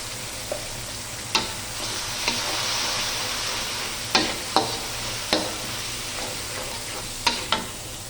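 Masala of turmeric, chili, ginger paste and garlic paste frying in oil for a tilapia curry: a constant soft sizzle broken by about eight sharp spoon clacks and scrapes against the pan at irregular intervals, close and without speech.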